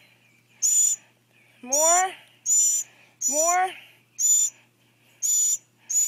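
A hand-fed baby bird gives repeated high, shrill begging calls, about seven evenly spaced bursts that are loud and close, while a person speaks softly between them.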